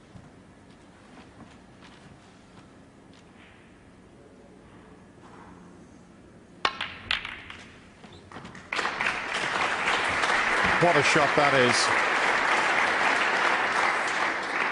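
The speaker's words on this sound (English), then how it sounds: "Generous round of applause." Applause from a snooker crowd at a Grand Prix match between John Higgins and Ronnie O'Sullivan. A quiet hall with faint talk gives way to a few claps, then a loud, sustained round of clapping swells, and a commentator speaks near the start.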